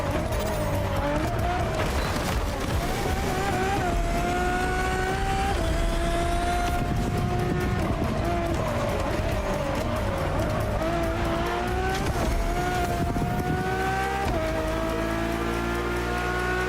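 A Ferrari road-legal Formula One car in The Crew Motorfest racing game screams as it climbs through several upshifts. The engine pitch rises and drops in repeated steps, loud and continuous throughout.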